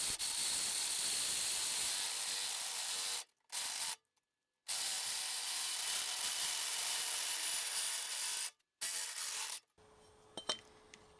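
Steel tubing salvaged from an old trampoline being welded into curved ramps, a loud continuous crackling hiss in long bursts broken by short silent pauses, then quieter shop sounds at the end.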